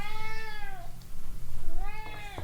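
A hungry cat meows for food at close range, two drawn-out, rising-and-falling cries separated by a short pause, loud and clear over faint room noise.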